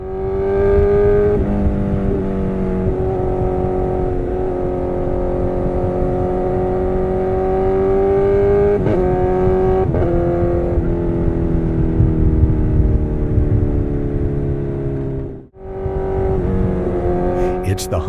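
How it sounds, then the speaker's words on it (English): Honda CBR 1000RR sport motorcycle engine revving hard, rising and falling in pitch through several loud throttle sweeps, with a brief cut near the end before it picks up again. "It's the Honda CBR 1000RR, a classic favorite"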